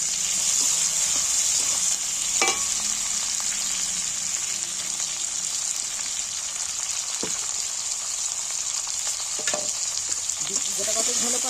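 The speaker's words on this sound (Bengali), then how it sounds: "পেঁয়াজটা ভাজা হয়ে যাচ্ছে" Onions and chopped tomatoes fry in a pan with a loud, continuous sizzle, broken by a few sharp scraping stirs of a utensil.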